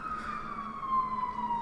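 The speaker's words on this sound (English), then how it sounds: "here another siren. Sounds like an ambulance." An ambulance siren sounds at a distance as a steady wailing tone that slowly drops in pitch as it passes, with low traffic rumble underneath.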